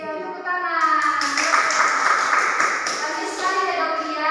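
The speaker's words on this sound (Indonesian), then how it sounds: "Iya, tepuk tangan." A middle school class in a micro teaching lesson claps along together in quick rhythmic bursts, the claps mixed with children's voices and a teacher talking over them.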